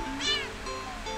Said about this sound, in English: And he's still meowing.